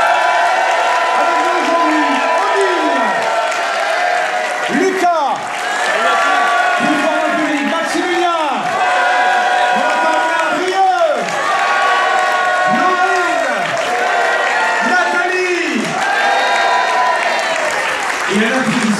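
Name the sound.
TV studio audience applause with cheering voices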